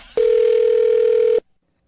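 A telephone dial tone opens a radio prank call: one steady, loud, unbroken tone holds for just over a second, then cuts off abruptly into silence, with no voices.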